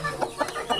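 Fighting-breed rooster chickens cluck in a quick series of short calls, close and fairly loud, with no talking.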